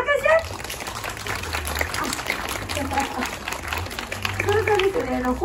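An audience at a traditional Japanese monkey show claps in a broad, continuous wave of applause, heard at a distance under a presenter's talk.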